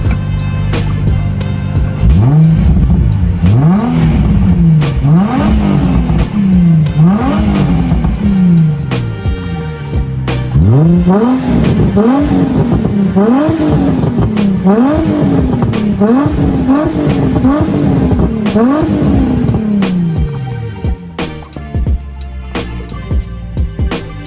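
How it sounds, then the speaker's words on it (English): A car engine with a cat-back exhaust and 210,000 miles revs repeatedly through a deep, throaty exhaust, each rise and fall of pitch arriving in quick waves, loud and close. "if you give it a little bit of a rev, here, listen to it up here"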